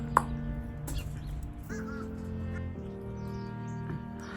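Morning birds cawing, a sharp crow-like call near the start and a few fainter calls after it, over a low steady hum with soft ambient background and no clear speech.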